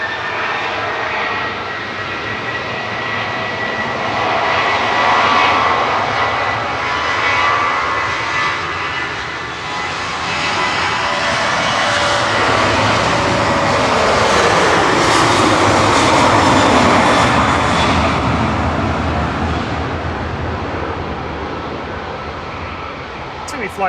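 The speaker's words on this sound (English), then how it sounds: "We've got a couple of aircraft right opposite us. It makes it quite noisy here when the engines are" Boeing 737 jet engines at Manchester Airport, a loud, continuous roar from aircraft close by that swells and fades over the whole stretch, with people talking faintly underneath.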